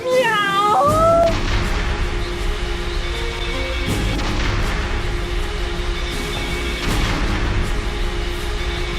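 A child imitates a cat with one short, rising-and-falling meow near the start, loud and close, followed by rumbling booms and clatter in a noisy indoor scene.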